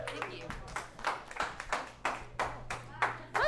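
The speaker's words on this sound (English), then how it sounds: "I love that big clap" Audience members at a team meeting clap in a handful of loose, separate bursts, fairly close, as a few voices murmur around them.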